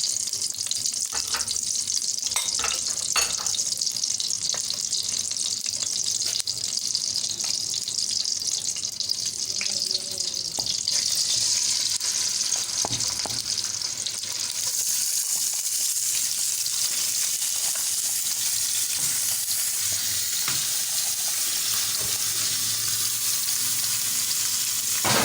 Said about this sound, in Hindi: व्यूअर्स, अब हमने इसमें चिकन डाल दिया है। ये हमारा फ्राई होगा चिकन।